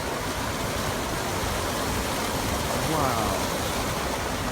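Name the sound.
water rushing across a road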